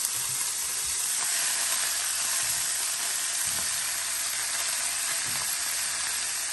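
Onion and chicken pieces fry in a pot, giving a loud, constant hiss and sizzle with faint low thumps of stirring underneath, close and steady, with no voices.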